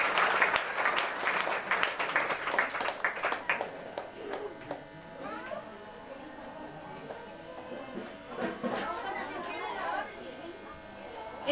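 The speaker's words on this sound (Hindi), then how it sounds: "इसलिए परमेश्वर को जोरदार तालियों का धन्यवाद देती है।" A church congregation at a Sunday service claps loudly in thanks to God, with dense applause that tails off into scattered claps and voices speaking over it.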